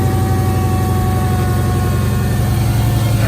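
A car engine fitted with a Forced Interchiller blower spacer, a new Grip Tech pulley and a new throttle body runs at a steady, loud idle, a close, constant low rumble with an even hum and no voices over it.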